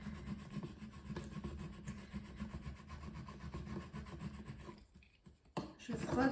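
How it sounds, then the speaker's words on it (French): A plastic scraper rubs firmly over vinyl transfer tape pressed onto cut lettering, giving a close, steady scratchy friction that runs continuously before a brief pause and a final few strokes. "Je prends mon racloir et j'appuie bien"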